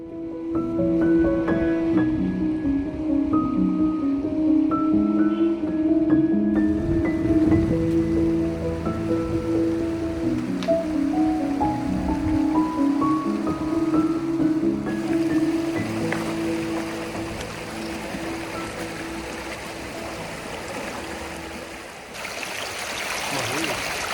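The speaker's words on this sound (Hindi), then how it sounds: "ये पानी की आवाज़ जिंदगी की सारी थकान दूर कर रही थी।" Water runs and splashes among rocks at a secluded natural spot near Pathankot, a steady close rushing that swells in the second half, mixed with prominent background music throughout.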